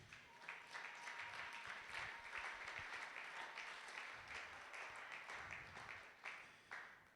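A church congregation at a Sunday worship service applauds together, a steady dense round of clapping that holds at an even level throughout, with a few brief cheers rising above it.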